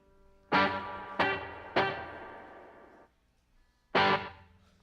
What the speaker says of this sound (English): That pesky reverb.